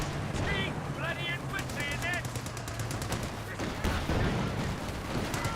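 Gunfire in Company of Heroes 2, bursts of machine-gun and rifle shots crackling through a busy battle, with a voice commentating over the top throughout.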